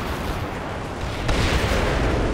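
A missile strike is stopped by an active protection system in a military video game, heard as a dense, loud blast of explosive noise that swells partway through with a heavier boom.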